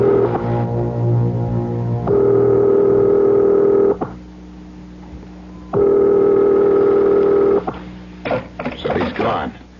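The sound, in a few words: telephone dialing in a radio drama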